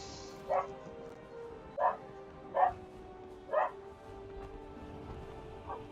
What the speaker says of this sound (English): The dog's going mad too.